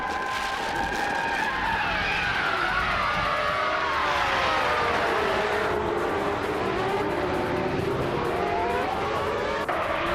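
Engines of a pack of race cars, led by a 1998 Minardi M198 Formula One car, roar and whine up through gears with tyre squeal at the start at the Nürburgring GP circuit in a racing video game, loud, continuous and close.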